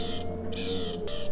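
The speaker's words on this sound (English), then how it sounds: "We have a baby crow." A baby crow in The Librarian video game caws in short repeated calls over a steady low game hum, close and fairly clear.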